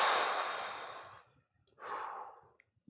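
Two slow, deep breaths during a guided meditation, each a long airy exhale close to the listener, the first fading over about a second, a short pause, then a second softer out-breath.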